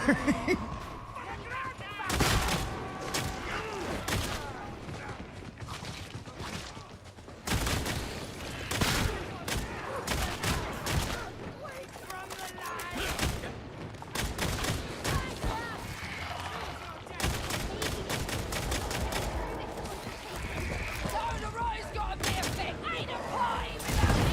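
Guns firing in the video game Warhammer 40,000: Darktide, dense rapid bursts and heavy booming shots in a loud, sustained barrage with mechanical clatter.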